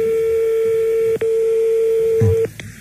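A telephone line tone holds steadily for over two seconds, briefly interrupted once, while a number is dialed back, followed by a short click and a quick tone blip as it cuts off.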